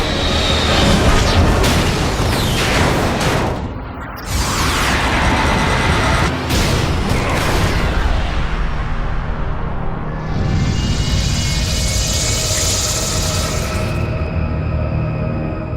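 Incoming Chimera spire attacks strike in the Resistance video game as a continuous barrage of loud, heavy booms and crashing impacts, with a brief gap, then a rumbling roar and a whooshing hiss near the end.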